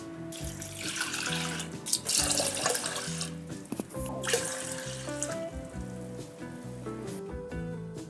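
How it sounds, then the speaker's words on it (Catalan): Water pours steadily into a pot of lentils for Turkish vegan mercimek köftesi, a continuous splashing rush lasting throughout, with background music underneath and no talking. "I afegirem l'aigua."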